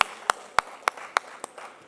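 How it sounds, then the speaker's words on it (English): A few sharp claps ring out at a beauty industry conference, spaced evenly and fairly close, forming a sparse handful of hand claps rather than a full round of applause. "a huge round of applause for Jaishree and Rujita"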